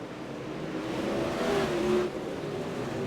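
Super late model race cars in a sim racing video game on the Limaland dirt track: a continuous engine drone with rising revs and a brief pitch sweep as cars battle for the lead, moderately loud, no talking.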